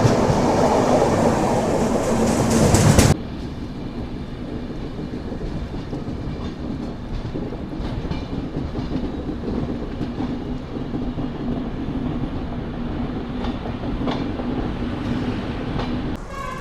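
The Telangana Express, running from Hyderabad's Nampally to New Delhi, passes close by with a loud rush that settles into a steady rumble and rhythmic clickety-clack of wheels on rail.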